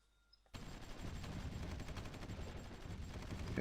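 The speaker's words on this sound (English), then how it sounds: "I can hear some fighting." Gunfire from ground fighting in Supreme Ruler Ultimate starts abruptly after a quiet moment, then continues as a dense, steady clatter of overlapping shots.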